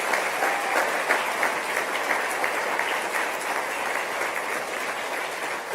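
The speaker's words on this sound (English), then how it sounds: "please give them a round of applause" A seated audience at an OAS event in Antigua and Barbuda applauds four steel pan players, dense even clapping that holds at a steady level throughout, with no voices over it.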